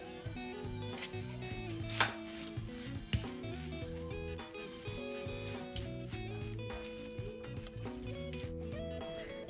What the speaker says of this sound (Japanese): 生姜焼き用の玉ねぎをカットします。